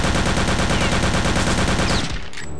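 Rapid automatic gunfire in the video game Return to Castle Wolfenstein, a loud continuous burst of closely spaced shots for about two seconds before cutting off into a brief ringing tail.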